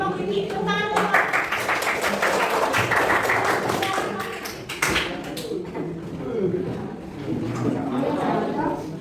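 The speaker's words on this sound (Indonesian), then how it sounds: "Tepuk tangan dulu, Pak." A small group claps for the first group's presentation, brisk uneven hand claps filling the room for several seconds, then thinning as voices and bumps continue underneath.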